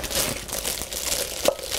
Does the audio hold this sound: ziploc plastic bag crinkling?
yes